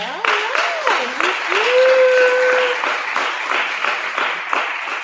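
Audience applause at a fiction awards event as a winner takes a victory walk, steady clapping heard under loud cheering and whoops, with rising and sliding voices over the top.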